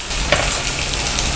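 Tomatoes fry in a pan for a butter mushroom gravy, producing a loud, dense, continuous sizzle close by, with one brief knock of a utensil and no talk.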